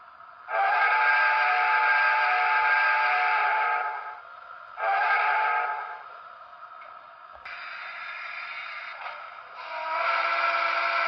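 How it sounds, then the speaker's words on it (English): A New York Central Niagara model steam locomotive sounds its whistle in four separate blasts, each a steady, clear multi-tone chord lasting one to three seconds, with short quiet gaps between them and no other noise. "As for whistles, we have 4 to choose from."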